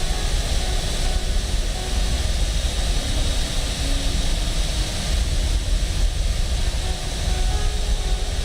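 A Boeing airliner's engines roar in Microsoft Flight Simulator as a continuous, dense broadband rumble, steady and loud throughout with no talking.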